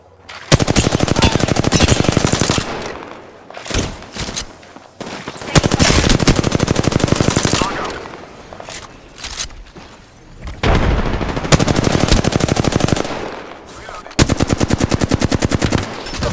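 Gunfire in the battle royale video game Apex Legends: loud bursts of rapid automatic fire, each lasting a few seconds, separated by brief gaps and lighter shots, with nearly continuous shooting across the stretch.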